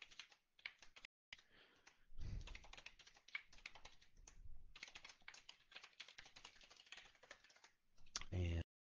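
Close computer keyboard typing while a new user is created on a website login page, rapid clustered key clicks in bursts with short pauses and a louder clack near the end, under a speaking voice.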